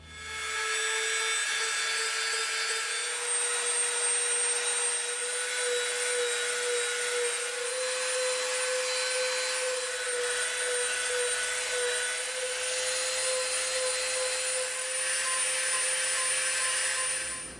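A Dremel rotary tool grinds and rounds the edge of an EVA foam piece, a continuous high-pitched whine with scratchy abrasive rasp that holds steady throughout, close up and without speech.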